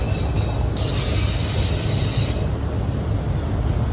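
A loaded CSX mixed freight train rolls past steadily in the rain, its rumble continuous and close throughout, with a faint metallic wheel squeal rising briefly in the middle.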